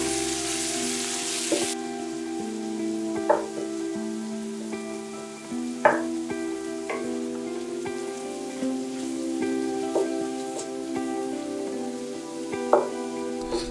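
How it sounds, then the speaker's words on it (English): Ground breakfast sausage and bacon fry in a skillet with a steady, close crackling sizzle, punctuated by a few sharper pops and spatters throughout, with a faint background tone and no talk. "add the ground breakfast sausage to the skillet until fully cooked through and broken up"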